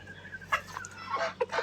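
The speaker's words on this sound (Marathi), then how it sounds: "हा कावेरीचा कोंबडा आहे जवळजवळ साडेसहा महिन्याचा कोंबडा आहे" A Kaveri breed rooster, about six and a half months old, clucking in a few short close calls on a poultry farm.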